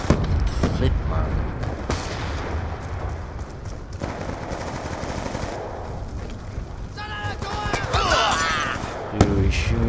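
Automatic gunfire in the Black Ops 2 video game multiplayer, dense sustained bursts and booms filling the whole stretch, with a few sharper shots near the end.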